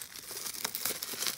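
Paper crinkling and tearing as mail envelopes and packages holding trading cards are opened, a close, steady stream of crisp rustles with a few sharper rips, no talking.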